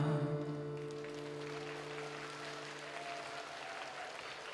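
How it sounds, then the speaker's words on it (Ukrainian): An audience applauds after a classical dance ensemble's performance, with soft, distant crowd clapping lingering as a steady wash behind a fading musical tone. "Давайте ще гучними оплесками подякуємо ансамблю Флеш"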